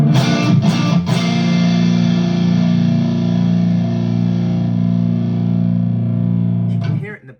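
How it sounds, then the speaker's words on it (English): Electric guitar through an Axe-Fx amp modeler with the gain cranked up: a thick, heavily distorted sustained chord rings loud and continuous, notes smearing together, after a few picked hits at the start. "I think if you run too much gain, you end up running into the problem of every note"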